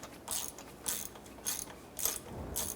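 Behind the wheel of a 2006-2013 Chevrolet Impala, a ratchet loosens a wheel bearing bolt in five evenly spaced, close, raspy clicking bursts, with no talking.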